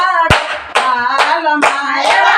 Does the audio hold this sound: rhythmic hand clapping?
yes